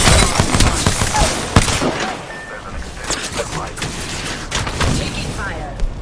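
Bursts of video game gunfire crack repeatedly over a noisy battle, sharp rapid shots and a few heavier thumps scattered across the stretch, with talk mixed in underneath.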